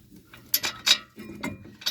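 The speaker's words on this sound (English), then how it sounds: "You better get a torque wrench on that 1/2 inch drive" Quick clicking ratchet strokes of a 1/2 inch drive torque wrench on lug nuts of a 2002 Ford F250 Super Duty 7.3L Powerstroke 4x4, several short mechanical clacks close up.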